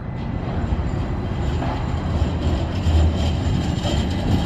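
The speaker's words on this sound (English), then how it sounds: "This is streetcar number 4." Milwaukee streetcar rolling slowly in across a track switch, a steady low rumble with faint rattles that swells slightly toward the end, heard up close with no voices.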